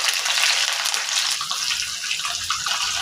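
Urad dal, chana dal, cumin, green chillies and curry leaves tempering in hot oil for a tomato chutney make a bright, continuous sizzling hiss that crackles up close without pause.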